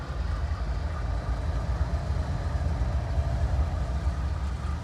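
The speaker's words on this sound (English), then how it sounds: "even a couple of locomotives, they've got to be slow. They don't want to damage a coupler." A pair of CSX freight locomotives creep along at low speed, making a constant low diesel rumble and rail drone that stays close and steady throughout.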